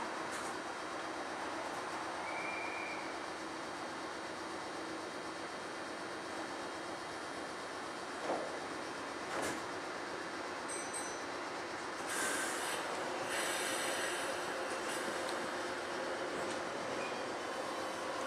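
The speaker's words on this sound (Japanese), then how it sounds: "3番線から電車が発車します。" A steady rumble of a Meitetsu 3500 and 3100 series electric train departing Gifu station, with occasional wheel squeals and clicks, heard at moderate distance in an open station.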